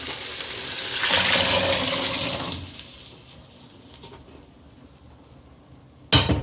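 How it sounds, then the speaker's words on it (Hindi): Soaked chickpeas and masoor lentils with their soaking water are poured into a cooking pot of turmeric and salt, giving a loud gushing splash that fades to a low wash, then a sharp clatter at the end. "अब इसमें हम डालेंगे अपने चने और दाल।"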